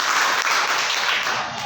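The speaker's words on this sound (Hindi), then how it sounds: "तालियां बजाओ" A classroom audience claps in a short, dense burst, loud and continuous for under two seconds.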